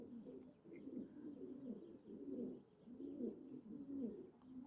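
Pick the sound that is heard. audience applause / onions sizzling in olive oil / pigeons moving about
pigeons moving about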